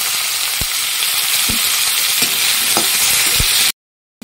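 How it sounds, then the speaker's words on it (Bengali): Potatoes and green chillies fry in oil with cumin, bay leaf and a little onion on a homemade clay stove, giving a loud, steady close-up sizzle with occasional stirring knocks. The sound then cuts off abruptly. "আলু আর লঙ্কা একসঙ্গে দিয়ে আজকে ভেজে নেব"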